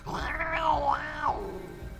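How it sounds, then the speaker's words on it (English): A cat lets out a drawn-out, wavering meow with a strained, yowling edge, close and loud. "Suddenly, I heard both my cats meowing and hissing in sync together."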